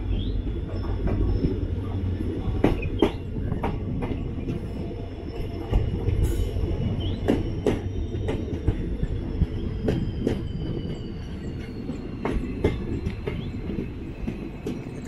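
Madgaon Express passenger train rolling into Shirur station, heard from aboard: a steady low rumble with rhythmic wheel clacks over rail joints and a faint high squeal drawn out across the run, no voices.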